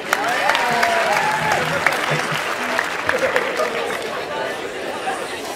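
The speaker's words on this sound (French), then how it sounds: "Et une deuxième personne qu'on applaudit aussi." Applause from a magic and mentalism show audience welcoming a second volunteer, steady clapping blended with crowd chatter, tapering off toward the end.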